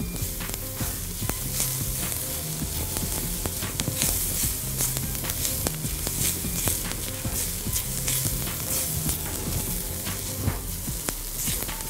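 Basmati rice toasting in a hot pan, crackling and sizzling steadily with occasional stirring scrapes, close and continuous, no voices.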